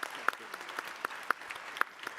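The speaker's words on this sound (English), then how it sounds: "Look at my mother clapping." A lone person clapping at a forum gathering, with sharp, fairly even hand claps about every quarter second over a soft room background.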